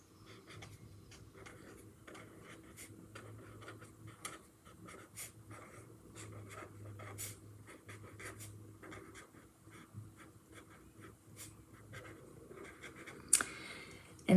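Pen scratching across the pages of a journal in a series of soft, intermittent strokes and taps, fairly close and quiet, with faint background rustle and no voices.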